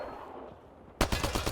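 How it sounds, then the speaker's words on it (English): Gunfire in Mass Effect Andromeda, a sudden loud burst of several rapid shots near the end after a quiet ambient stretch. "I can't even shoot my own ship."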